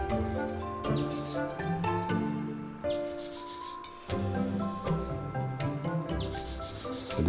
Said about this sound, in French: là une mésange à longue queue